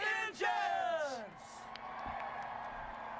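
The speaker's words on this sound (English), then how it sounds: "Crowd is on their feet, cheering these boys on" Synthetic crowd in a racing video game, a modified stock car race at Pocono, Pennsylvania, bellows and whoops loudly at the start, then settles into a steadier background roar of cheering.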